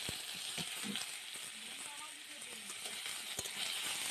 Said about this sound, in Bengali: এবার আগে থেকে কেটে রাখা আলু বেগুনটা দিয়ে দেবো।